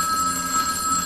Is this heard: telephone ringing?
yes